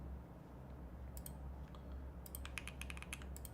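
Typing on a computer keyboard: a quick cluster of crisp key clicks, sparse at first then rapid in the second half, close and clear over a low steady hum.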